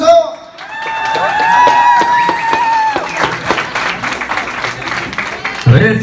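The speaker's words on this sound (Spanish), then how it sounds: "¿Dónde está el aplauso?" A crowd at a community fiesta claps for a child prize winner, and the applause swells in after a sustained tone and runs dense and fairly loud to the end, mixed with scattered voices.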